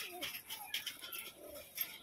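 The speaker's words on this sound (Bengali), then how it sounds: "এটা একটা নর পায়রা" A male roller pigeon coos softly a few times in a bird collection, a faint low murmur set against steady hiss and a few other distant bird sounds, with no one speaking over it.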